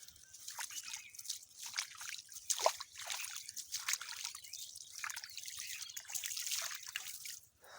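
Water trickles steadily into a flooded rice paddy, a continuous close splashing dribble that swells and eases over a faint low hum, with no voices.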